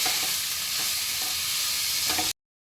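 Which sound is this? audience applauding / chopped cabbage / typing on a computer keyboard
chopped cabbage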